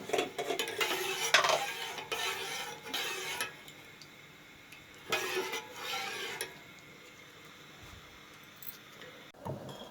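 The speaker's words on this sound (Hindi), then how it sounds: "इसको मैं पकने छोड़ दूँगी थोड़ा सा स्टर करके" A spoon scrapes and clinks around a pot of cooking flax seed gel in a few short bursts of stirring, close and quiet between strokes.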